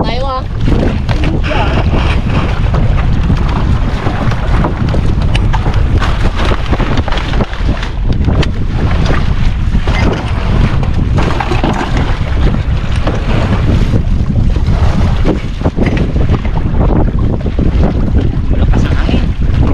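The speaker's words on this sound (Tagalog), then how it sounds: "Malakas ang hangin." Strong wind buffets the microphone nonstop on a boat at sea, a loud roaring rush with water noise and faint voices buried underneath.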